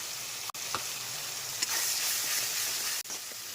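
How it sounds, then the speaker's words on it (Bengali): A spice paste sizzles and hisses loudly in a hot pan, constant and close, broken by a couple of brief scraping stirs. "এবার এই পেস্টটা দিয়ে খুব ভালো করে কষে নেবো।"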